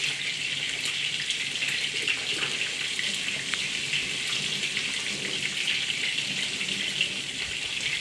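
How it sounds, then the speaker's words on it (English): Tap water runs over a bunch of fresh herbs being rinsed in a kitchen sink, a steady hissing splash at a constant level with no speech, close and fairly even throughout. "I'm gonna just take off a good bunch from my herbs and I'm gonna give it a quick wash"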